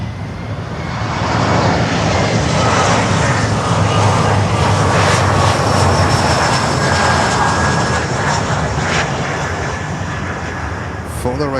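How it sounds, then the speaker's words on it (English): A brand new Embraer 175 jet landing at Miami airport roars loud and steady throughout, a broad continuous engine rumble that holds close for the whole stretch. "For the record, it's a brand new Embraer 175."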